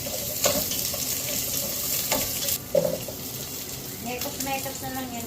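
Garlic sizzles in a hot pan for tinola, a steady frying hiss with occasional stirring scrapes and clinks, heard close up.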